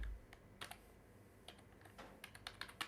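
Typing on a computer keyboard while writing Python code, a run of quiet, irregular key clicks in small bursts, close and alone with no voices.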